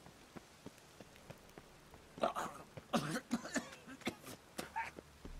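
Townspeople cough and retch in The Witcher 3 video game. Several rough, moderate coughs and gagging sounds cluster in the middle and later part over a quiet, patterned background of ticks.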